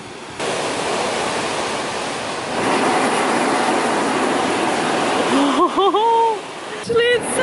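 Rough sea surging through holes in rugged coastal rock on South Australia's Eyre Peninsula makes a steady, heavy roar, with eerie whistling tones rising and falling near the end while people react briefly.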